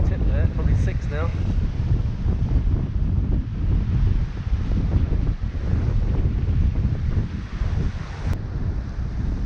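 Strong 22 to 25 knot wind buffeting the microphone aboard a Hallberg-Rassy 54 sailing yacht approaching Anguilla, a constant loud roar with water rushing against the hull beneath it and a person speaking over it.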